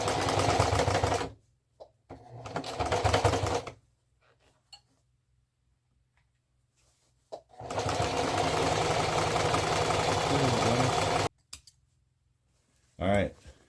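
Sewing machine straight stitching a hem on work pants, running in three loud steady bursts of whirring motor, the longest about four seconds, with quiet pauses and small clicks between runs.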